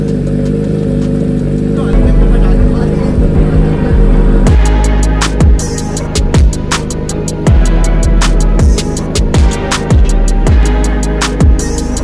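A Triumph Daytona motorcycle engine starts and settles into a loud, close idle, with a rapid run of sharp throttle blips and revs toward the end and voices chattering nearby.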